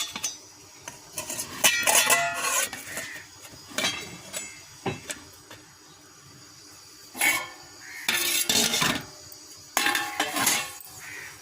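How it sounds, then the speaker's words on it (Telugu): A metal lid goes onto a pot where sweet corn powder bread is set to steam, producing a scattered series of sharp clanks and clinks of metal cookware in bursts separated by a quiet pause. "దీనిపైన మూత పెట్టేసుకుందాం"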